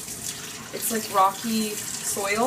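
A thin stream of lukewarm water pours and trickles close by, a gentle running splash heard beneath a person speaking.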